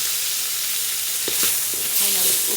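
A sweet white onion fries in canola oil in a pan, giving a steady, close hiss of sizzling with a few faint stirring clicks.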